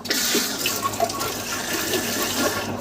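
A tumbler rinsed under a running kitchen tap, a steady close gush of water splashing into a sink, continuous and moderately loud without pauses.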